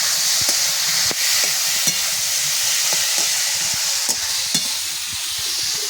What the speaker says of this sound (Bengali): এবার কিন্তু এখানে যে রসুন আর লঙ্কাটা বেটেছি সেইটা দিয়ে দেব, দিয়ে এখন নেড়ে চেড়ে নেব।